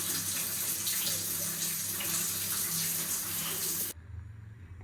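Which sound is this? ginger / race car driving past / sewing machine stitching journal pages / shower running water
shower running water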